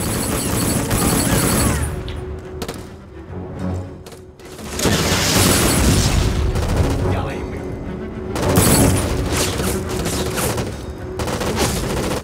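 A rocket-propelled grenade slams into a train amid a dense firefight in the video game Black at Vratska Dockyard, with bursts of gunfire, heavy booms and crashing impacts rising and falling throughout.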